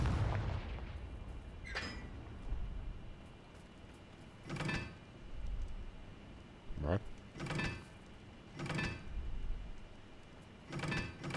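Confringo fire spell cast in the Hogwarts Legacy video game, several separate whooshing, booming bursts spaced a second or two apart, fairly quiet, with spoken voice between them.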